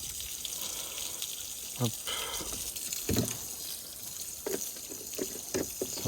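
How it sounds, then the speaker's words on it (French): Professional plant-based shampoo sprayed onto an Audi R8 during an exterior wash, a series of short bursting sprays and splashes at irregular intervals over a soft background wash, with a brief spoken word. "J'utilise un shampoing spray professionnel."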